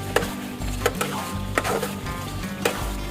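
Mango pickle with sugar being stirred in a pan, a spoon scraping and knocking in a steady rhythm about every half second over a low sizzle, close and clear.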